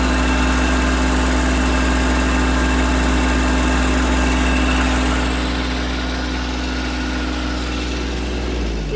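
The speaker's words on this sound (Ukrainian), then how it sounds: "зменшуємо оберти. Глушиться тракторець ключем." A Kubota GB-15 three-cylinder mini tractor engine idles steadily with a low, throbbing hum, close and loud, easing slightly lower partway through.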